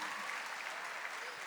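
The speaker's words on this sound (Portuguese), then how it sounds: "Uma salva de palmas, né?" A small audience at a religious consecration gathering applauds in a brief, faint, steady patter of clapping.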